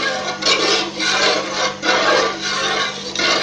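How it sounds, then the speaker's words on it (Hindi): A spoon scrapes and stirs steadily through desi ghee cooking down from cream in a pan, giving a continuous rhythmic rubbing and sizzling texture with gentle swells, close and alone. "आपको इसी तरीके से चम्मच चलाते रहना है।"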